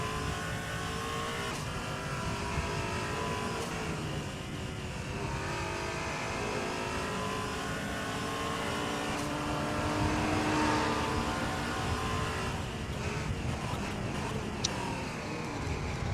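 A Toyota Supra GT4 race car on the Hockenheimring, heard from on board while passing traffic, gives a steady loud engine roar with a rising and falling pitch as it works through the gears. There is no talk.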